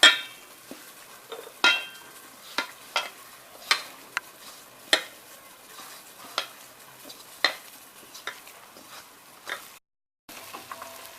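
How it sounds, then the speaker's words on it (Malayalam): A spoon stirs pumpkin sautéing in ghee for payasam in a pan, giving about a dozen sharp metallic scrapes and clinks at a loose, uneven rhythm over a faint sizzle. "നമ്മുടെ മത്തങ്ങ നെയ്യിൽ വഴന്നിട്ടുണ്ട്"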